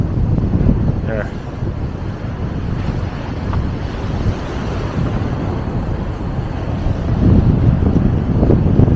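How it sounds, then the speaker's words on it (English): Strong gusts buffet the microphone beside the sea, a steady low roar of wind noise with surf underneath that swells louder toward the end, while a voice speaks briefly. "it's way too windy"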